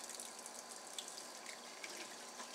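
Tap water runs steadily and faintly over reusable Keurig coffee filters as they are rinsed in a sink, a continuous splashing hiss with small irregular drips and no voices.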